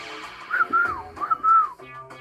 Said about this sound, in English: I can whistle again.